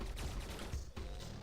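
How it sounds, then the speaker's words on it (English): Rocket cannon in DOOM firing, each blast launching two rockets, heard as a dense run of loud overlapping blasts with rumbling low end filling the moment without a break. "it shoots 2 rockets at a time per blast"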